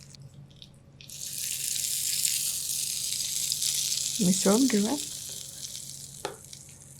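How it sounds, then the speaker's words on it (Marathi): Hot oil tempering of asafoetida, dried red chillies and curry leaves is poured onto chutney, giving a loud, sustained sizzle close by that slowly fades, with a brief spoken phrase partway through. "आता हे तयार फोडणी आपल्या चटणीवर घालूयात"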